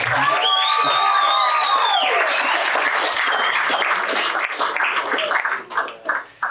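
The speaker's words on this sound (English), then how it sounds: "can we all have a round of applause for the bridesmaids?" Wedding guests at a reception break into loud applause with high whoops and cheers, the clapping continuing strongly before tapering into scattered claps at the end.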